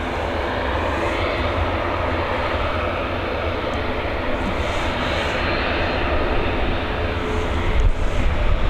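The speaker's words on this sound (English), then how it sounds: "FR3101 coming in from Amsterdam, this Boeing 737." A Ryanair Boeing 737 arriving from Amsterdam on runway 28L at Dublin Airport in the evening, its engines a steady broad roar throughout, swelling slightly louder near the end.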